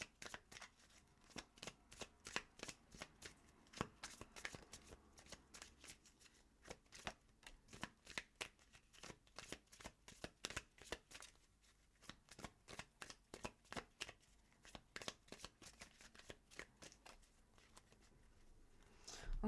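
Moonology oracle cards shuffled by hand in a steady run of crisp riffling bursts, close and fairly quiet, continuing alone without talk for the whole stretch.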